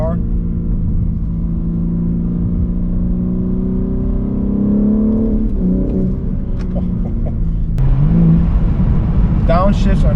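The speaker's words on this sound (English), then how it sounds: "Now we're just going to cruise up the rev range so we can hear the motor." A 2022 BMW M3 Competition G80 engine revs up steadily while driving, a loud, close, rising drone that climbs through the rev range, then dips as a gear shifts and builds again.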